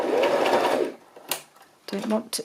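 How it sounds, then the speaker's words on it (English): A sewing machine stitches fabric in a short close burst of rapid whirring, then goes quiet while someone speaks. "Try not to sew over my pins."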